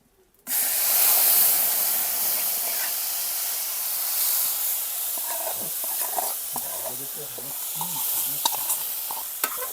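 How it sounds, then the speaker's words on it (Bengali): Spice paste mixed with water hits hot oil while cooking a hilsa fish curry, bursting into a loud, sudden hiss that stays strong and slowly settles into a steady sizzle with some stirring. "এখন তেলের উপরে দিয়ে দেব মশলাগুলো।"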